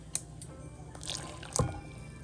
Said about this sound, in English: We're going to put it into our pot.